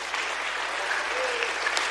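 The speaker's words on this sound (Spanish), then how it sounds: "Dale un aplauso al Señor" Steady applause from a church congregation fills the whole moment, a dense even patter of many hands clapping.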